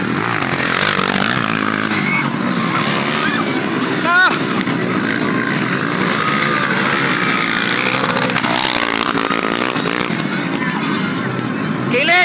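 A pack of motorcycles racing in a barangay street race, engines droning loud and continuous with rising and falling revs as bikes pass, while excited voices shout over the noise.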